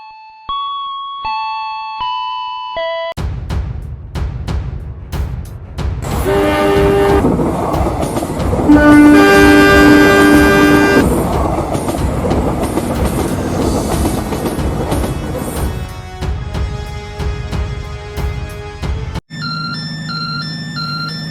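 A train rumbles and clatters over the tracks as it pulls away, a horn sounding over the steady rolling noise, with chiming station tones at the start and end.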